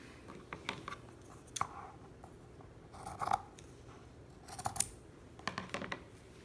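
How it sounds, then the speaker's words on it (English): Scissors snipping excess length off a fabric strap while sewing, several short crisp cuts in separate bursts, close and fairly quiet. "my strap is about 3/4 of an inch too long, so I'm going to trim that off"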